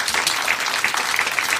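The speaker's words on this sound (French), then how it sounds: "Est-ce qu'on peut applaudir?" A live podcast audience breaks into applause, a short, fairly soft burst of scattered clapping from many hands lasting under two seconds.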